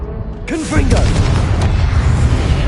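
A Confringo explosive spell blast in Hogwarts Legacy on PS5 gives a loud, sustained booming rumble of magic-combat bursts, with a voice shouting spells beforehand.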